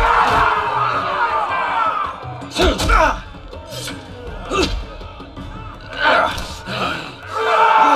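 A crowd roars and shouts in Telltale's Game of Thrones video game, a loud sustained mass of voices with surging bursts of cries and cheering, mixed with nearby speech.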